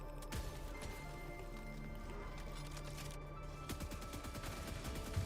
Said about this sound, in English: keep firing the spear gun so that they can't get out of that spawn